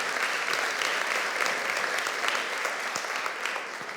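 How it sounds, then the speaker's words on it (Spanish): A church congregation applauds during a worship service, a thick, continuous roar of many people clapping at once, loud and sustained throughout with little variation. "Denle un aplauso al Señor por eso."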